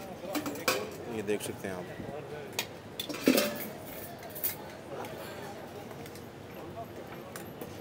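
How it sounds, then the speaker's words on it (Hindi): A street vendor chopping onions for lobiya chaat in Rawalpindi: quick, uneven knife knocks and metallic clinks on a board, close by, under someone talking and busy stall noise. "ये भाई जो है प्याज वगैरह और सब कुछ काट रहे हैं यहाँ पे"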